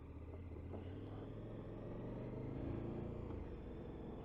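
A 2022 KTM 1290 Super Adventure S motorcycle warms up with its engine idling, giving a steady, close low rumble with a slight rise in revs partway through.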